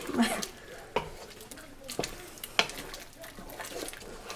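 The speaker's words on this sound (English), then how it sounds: "We're gonna get this stirred up in here." A spoon stirs homemade apple butter with cinnamon and nutmeg in a pot, soft scraping broken by a few sharp clinks against the side, under a talking voice.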